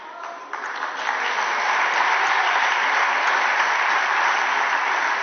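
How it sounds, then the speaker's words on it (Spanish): Applause in a parliamentary chamber, a dense sustained wash of clapping from many people that swells after a brief start and holds steady and loud throughout. "Aplaudan, aplaudan."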